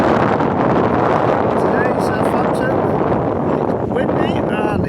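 Steady, loud wind buffets the microphone at the Southampton boat show, a continuous roar with faint higher whistling tones drifting through it.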